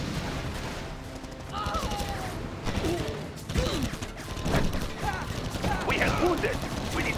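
Game gunfire in a C&C Generals skirmish on the Baikonur Infiltration map, with dense bursts of shots and mechanical clatter running throughout, layered under radio voice lines and battle noise.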